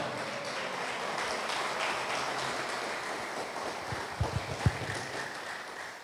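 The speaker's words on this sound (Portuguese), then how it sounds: "Oh glória, vamos aplaudir mais" Church congregation applauding during a Portuguese-language service, a broad steady wash of clapping with a few sharper, louder claps near the end.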